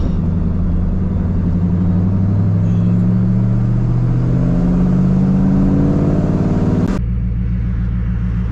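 A supercharged Ford Mach 1 Mustang engine warms up at idle with a deep, loud, steady rumble and slowly shifting drone, close to the car, then a sudden sharp change near the end as the revs drop to a lower throb.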